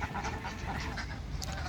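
Ducks bathing in water, their quacking and splashing steady and close for a short stretch, with no speech over it.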